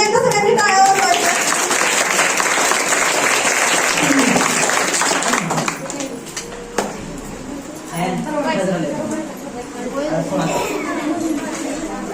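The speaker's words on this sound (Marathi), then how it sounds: "पुन्हा एकदा सगळ्यांनी टाळ्या वाजवायच्या." Audience at a school Shivaji Maharaj Jayanti celebration applauding a students' performance, a sustained wash of clapping that fades partway, with a voice talking over it afterward.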